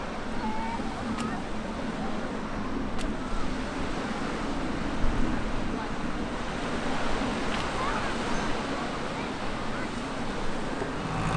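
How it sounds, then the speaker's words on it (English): Surf washes steadily onto the small sandy beach at Grève de Lecq, a Jersey fishing port, in a continuous wash of breaking waves with some wind buffeting the microphone. "This is wonderful, Grave de Lec. It's, as you can see, not the largest beach, but it's sandy."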